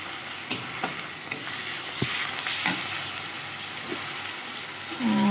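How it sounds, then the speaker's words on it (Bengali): Masala fries and is stirred in a pan with cooking water, giving a steady close sizzle and hiss broken by occasional scrapes and clinks of the spoon. "মশলাটা কষছি এদিকে"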